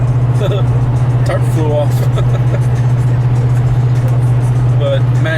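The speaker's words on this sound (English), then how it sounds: "I was driving down the highway" Steady road and engine drone from a vehicle cruising along a highway, loud and continuous throughout, with someone talking over it.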